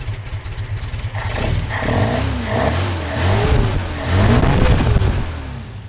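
An Opel GT engine with Weber DCOE carburetors is revved close up in several rising and falling bursts over a rough, uneven idle, growing louder toward the end.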